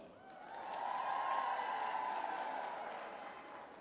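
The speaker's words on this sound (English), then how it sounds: "give me a round of applause" An audience breaks into applause, a soft wash of clapping that swells gradually and holds steady, heard from a distance and fairly faint.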